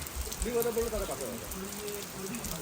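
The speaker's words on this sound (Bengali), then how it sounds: "বৃষ্টি হচ্ছে আমরা রাতে খাবো পাতলা খিচুড়ি যেন আকাশ ফুটো হয়ে গেছে" Steady rain falls in a forest, a soft continuous patter throughout with a voice speaking over it.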